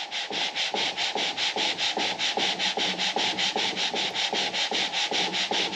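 Rhythmic back-and-forth sanding of a Subaru Forester engine head with sandpaper, about three or four quick gritty strokes per second, steady and close with no talking.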